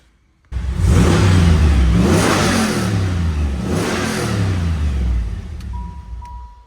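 A powerful Callaway C8 Supernatural Camaro V8 engine revs hard several times after a brief quiet start, the loud growl rising and falling in repeated surges.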